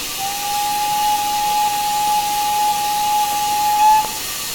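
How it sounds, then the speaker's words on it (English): A steady steam brake whistle from a GWR steam locomotive in Train Simulator Classic, one long sustained tone over soft hiss, holding for about four seconds before cutting off abruptly. "Brake whistle, that's a pretty common whistle sound on a lot of Victory Works GWR models."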